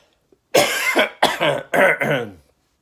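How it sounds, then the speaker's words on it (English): A close, harsh fit of about five rapid coughs from a cold in a row, loud and raspy, with near silence before and after. "Sorry, that's just a cold cough."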